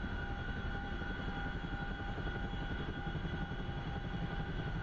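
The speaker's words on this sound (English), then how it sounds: "Let's see if we can get the helicopter into some kind of a hover now." A CH-47F Chinook helicopter in the DCS flight simulator runs its engines and rotors in a steady, continuous drone with a fast rotor thrum, moderately loud and constant from start to finish.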